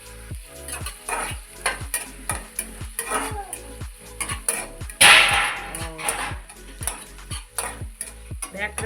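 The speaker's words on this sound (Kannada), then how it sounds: "ಇದರಲ್ಲಿ ಕರಿಬೇವು, ಶುಂಠಿ ಮತ್ತು ಬೆಳ್ಳುಳ್ಳಿ ಹಾಕಿದ್ದಾರೆ. ಫ್ರೈ ಮಾಡ್ತಿದ್ದಾರೆ, ಚೆನ್ನಾಗಿ ಫ್ರೈ ಮಾಡ್ತಿದ್ದಾರೆ." Curry leaves, ginger and garlic fry and sizzle in a pan, with steady crackling and repeated scraping stirs, a loud burst of spitting near the middle, and no talk.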